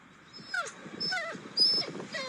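A dog cries with high, wavering whines and whimpers in several drawn-out bursts, fairly close and moderately loud.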